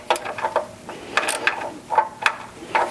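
A ratchet clicks in short bursts while tightening a bolt on a Porsche 3.2 Carrera engine, several quick rattling strokes with brief pauses, close and fairly quiet, with no voice.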